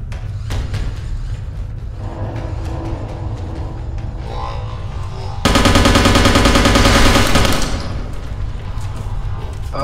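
An enemy in the video game Interstellar Marines fires a loud, rapid burst of automatic gunfire lasting about two seconds, preceded and followed by scattered quieter shots and game noises.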